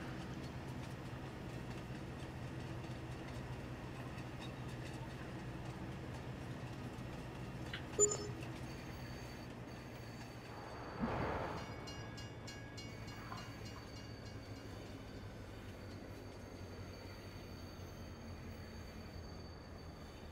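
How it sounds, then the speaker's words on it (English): A train in the Farming Simulator 22 game rolls along its rails with a steady low rumble, a constant mechanical drone throughout and one brief louder clunk partway through, with no talking. "I get to drive the train"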